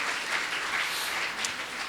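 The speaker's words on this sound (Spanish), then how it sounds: "Le puede dar un aplauso al Señor, porque Él lo hizo todo" A church congregation applauds together, steady continuous clapping that fills the room without pause and with no talk over it.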